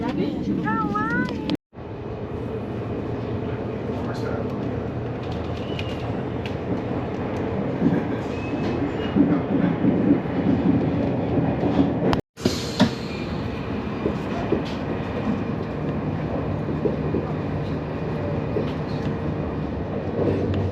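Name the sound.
high speed train departing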